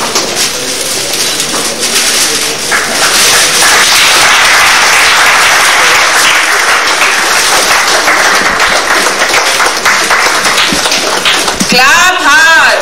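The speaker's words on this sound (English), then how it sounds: "Clap hard. Huge round of applause." A large audience at a national-level coding event's inauguration claps loudly and continuously, a thick roar of hands that stays strong throughout, with some bird-like chirps and a brief sweep near the end.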